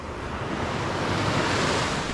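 Sea waves roll onto a beach at a resort in Banay-Banay, Davao Oriental, a close, steady roar of surf with wind buffeting the microphone and no voices.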